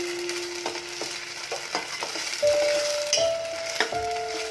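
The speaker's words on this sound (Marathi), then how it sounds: "हे खोबऱ्याचं वाटण त्यामध्ये टाकायचं आहे" Coconut masala paste being stirred into a Malvani pomfret curry in a pan, with close, repeated scraping strokes over a steady frying sizzle and a faint tonal hum, with no talking.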